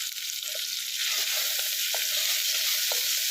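Curry leaves, green chillies, mint and coriander sauté in a pan with a steady, bright oil sizzle, broken by a few soft clinks and scrapes of stirring, close and continuous with no talking.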